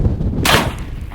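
A single loud, close shotgun blast fired at a pumpkin outdoors, a sharp broadband boom with a brief ringing tail.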